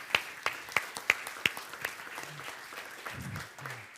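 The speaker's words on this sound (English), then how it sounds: "Give a warm round of applause to these panelists." A conference audience applauding panelists, a few sharp individual claps up front before a brief, thin burst of clapping fades under faint murmur.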